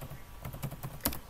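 Quick, close clatter of computer keyboard keys being typed, a short run of light, even clicks with one sharper tap near the end.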